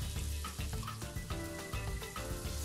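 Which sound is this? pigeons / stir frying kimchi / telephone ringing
stir frying kimchi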